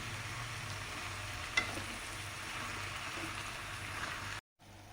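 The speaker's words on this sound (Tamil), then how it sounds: "பீக்கங்காயை நல்லா வதக்கணும்." Ridge gourd pieces sautéing in a pan for chutney make a soft, steady sizzle with one sharp clink midway, before the sound cuts out briefly near the end.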